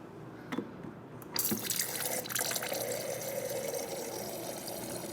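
Water runs from the dispenser of a Whirlpool, Maytag or KitchenAid refrigerator after a valve cleaning, starting with a click and then pouring in a steady, close, hissing stream into a container, with no voices.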